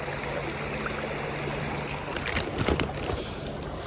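A small woodland stream flows over a gentle waterfall in Pennsylvania trout country, a steady soft rush of water close by, with a few splashes and handling noises near the end.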